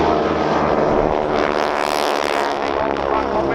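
A wingwalker biplane's propeller engine roars loud and close, holding a steady buzzing drone with a slight swell and fade as the aircraft passes.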